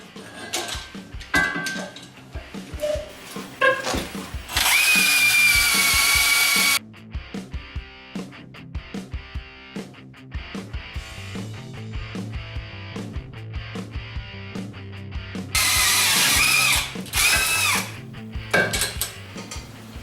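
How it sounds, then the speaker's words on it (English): A RapidDrill magnetic drill whines in two loud sustained bursts as it bores through 1/4 inch thick steel plate, separated by clattering metallic knocks and tool handling. "Let's do a speed test to see how long it takes to drill 10 holes through 1/4 inch thick steel."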